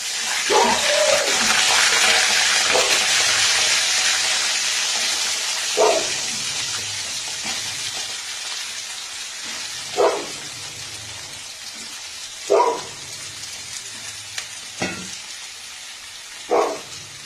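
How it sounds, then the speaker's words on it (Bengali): Diced potatoes hit hot oil tempered with white cumin in a wok for a Bengali potato-tomato curry, a loud broad sizzle that gradually softens, broken by occasional clanks of a spatula stirring. "এবার আমি এর মধ্যে ডুমো ডুমো করে কেটে রাখা আলুগুলো দেব, দিয়ে একটু ভেজে নেব।"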